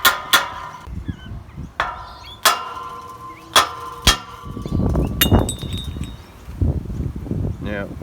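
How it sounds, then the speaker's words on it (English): Sharp metallic hammer blows knocking metal caps off posts for solar post cap lights, about half a dozen irregular strikes up close, followed by scraping and rustling handling noise. "Might need a hammer to take these off."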